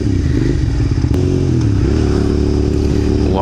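A motorcycle with a wobbly front wheel runs loud and close, its engine holding a steady drone with a slight rise in pitch partway through, plus a few clattering knocks and scrapes.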